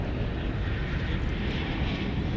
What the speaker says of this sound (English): American 1104 is off to Boise, Idaho. It's an Airbus A321.